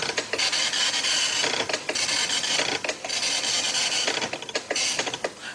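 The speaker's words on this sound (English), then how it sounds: "instead of listing to the screen, the computer will list to the printer" A Commodore 64 printer prints a program listing, with repeated rasping, buzzing line bursts in a steady mechanical rhythm, close and continuous.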